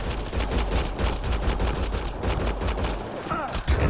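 Gunfire in Mass Effect Andromeda: quick, tightly spaced shots in a continuous barrage lasting several seconds, loud and close, with a brief change in tone near the end.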